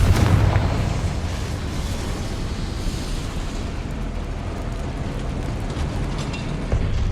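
A Confringo fire spell explodes in the video game Hogwarts Legacy with a loud burst at the start, then a long roaring, crackling rumble that holds steady until a small flare near the end.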